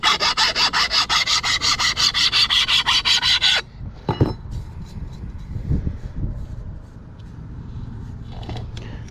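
Quick, rhythmic strokes of a file rasp over a burr on a steel chainsaw bar, loud and close for several seconds, then quieter scattered scraping and handling noises.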